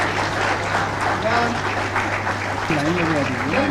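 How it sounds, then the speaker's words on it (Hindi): Applause from an audience at a government ceremony where appointment letters are handed to community health officers, a steady dense clapping wash mixed with voices and a hum throughout. "तालियां होती रहेंगी।"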